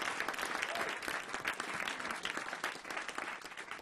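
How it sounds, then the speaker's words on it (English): An audience applauds during a live broadcast presentation, a dense, sustained round of clapping at moderate distance that continues without a break. "you can go ahead and applaud for that"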